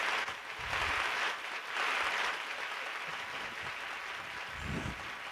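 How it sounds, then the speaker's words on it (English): A small audience at an anniversary concert applauds Jerome Johnson, a fairly faint, uneven patter of clapping that swells twice and then thins out, with a few low thumps near the end. "big round of applause"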